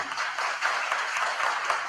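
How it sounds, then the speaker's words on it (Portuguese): Audience applause at an installation ceremony of the Mato Grosso historical and geographical institute, a dense steady patter of many hands clapping, moderately faint and continuous. "a qual eu peço uma salva de palmas"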